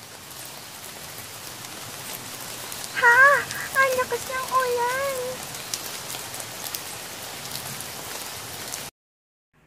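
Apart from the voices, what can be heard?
heavy rain pouring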